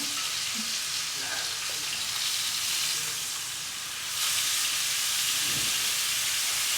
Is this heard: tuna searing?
yes